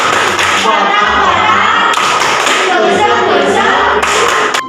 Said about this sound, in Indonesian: yuk sama-sama kita melakukan tepuk sate